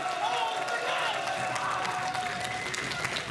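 Sustained crowd applause fills a hall at a cosplay event at a brony fan convention, a broad continuous wash of clapping with cheering mixed in and voices audible underneath.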